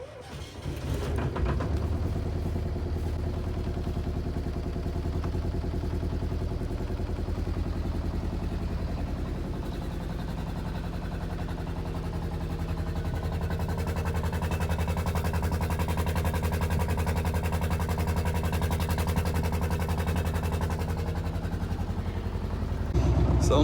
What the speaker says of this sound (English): So now it's just a case of let the engine warm up.